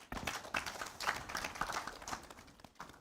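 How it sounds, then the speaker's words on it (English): A live audience at a startup brand-building talk claps in a dense, steady burst of applause that lasts about three seconds and fades toward the end. "Please, a round of applause."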